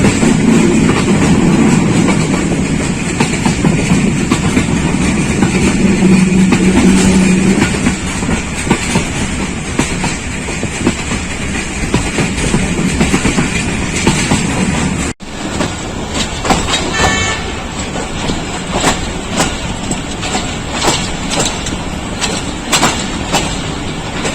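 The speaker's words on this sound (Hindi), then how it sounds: "बड़ियाल पहुँच रही है ट्रेन" A Pakistan Railways passenger train runs from Wazirabad to Sialkot past rice fields, heard from on board. A loud, steady rumble of wheels on rails continues throughout, with rhythmic clickety-clack that grows more distinct in the second half.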